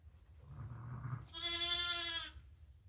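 A single loud, drawn-out bleat close by from a ewe giving birth to lambs, following softer low animal murmurs and rustling in a barn.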